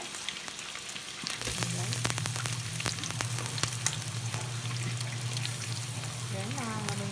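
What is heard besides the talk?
onion and garlic sautéing in oil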